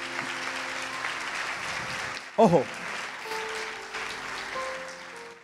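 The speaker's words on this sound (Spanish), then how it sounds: "Un aplauso para los voluntarios." Audience applause for volunteers at a church anniversary gathering, a steady wash of clapping through the clip with a brief louder burst near the middle, heard under someone speaking.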